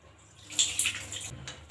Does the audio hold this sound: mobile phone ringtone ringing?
no